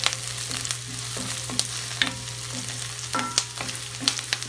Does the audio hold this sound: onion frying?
yes